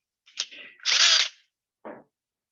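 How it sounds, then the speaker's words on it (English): A power drill boring a hole, heard as a short rising whir, then a loud one-second burst of drilling and a brief final buzz, close by and with no talk over it. "And now the bigger drill."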